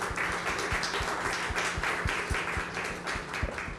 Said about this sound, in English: let's give the minister a very warm round of applause